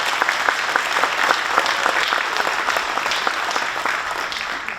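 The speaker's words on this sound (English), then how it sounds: "Let's hear a round of applause." A crowd at a town dedication ceremony in Milford claps in sustained, dense applause that stays loud and even throughout, with no voices over it.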